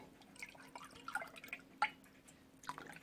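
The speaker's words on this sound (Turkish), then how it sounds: "Üzerine 2 su bardağı da suyumuzu ilave edeceğiz." Water poured onto sugar in a vessel to make syrup for a dessert, heard as quiet, close irregular splashes and drips, faint overall, no talking.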